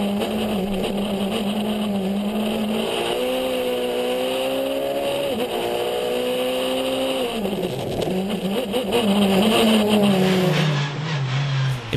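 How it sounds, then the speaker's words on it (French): A Skoda Fabia S2000 rally car races along a stage at the Rally van Haspengouw 2014, its engine loud and continuous, pitch rising and falling through gear changes and revs, with no voices. "on débute tout de suite avec le champion en titre, Freddy Loax, à bord de sa Skoda Fabia S2000"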